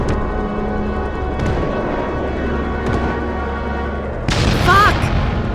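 Bombing explosions in the Project Zomboid video game, heard as several heavy booms spaced a second or two apart over a constant low rumble, with a louder, brighter blast near the end.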